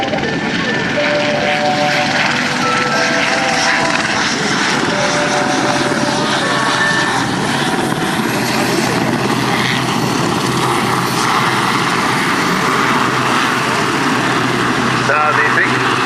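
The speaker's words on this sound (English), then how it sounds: "Now the big Westland helicopter is just dropping off its winchman, who's going to act as a survivor to be rescued." An RAF Westland Sea King helicopter, serial XZ587, hovers at an air show while dropping off a winchman, its loud, steady rotor and engine roar filling the air continuously without letup.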